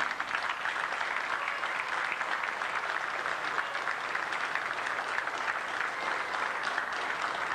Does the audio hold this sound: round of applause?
yes